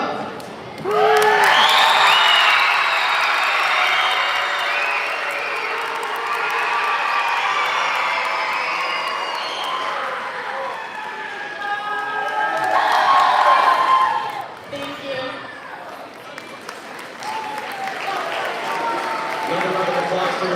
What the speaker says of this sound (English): Another round of applause for Lindsay.